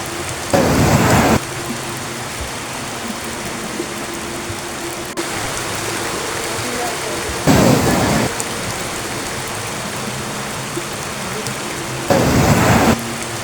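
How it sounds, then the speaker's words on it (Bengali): A cartoon thunderstorm sound effect, with heavy rain pouring steadily and three loud thunder cracks at even intervals over the drumming downpour, with no voices. "প্রচণ্ড শব্দে মেঘ ডাকতে লাগলো। মুহূর্তের মধ্যে শুরু হলো প্রবল ঝড় আর মুষলধারে বৃষ্টি।"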